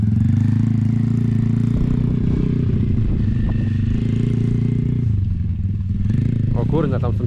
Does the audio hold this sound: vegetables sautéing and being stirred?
no